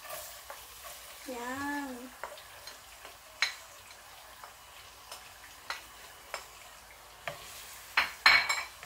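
Garlic sizzles softly in melted butter as a utensil clicks and taps against the pan at intervals while being stirred, with one brief spoken word.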